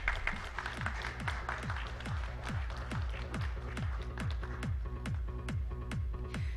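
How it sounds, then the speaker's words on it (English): A conference audience at a digital transformation panel applauds a session moderator, moderate clapping with distinct individual claps standing out, steady throughout and fairly close. "Can we have a round of applause,"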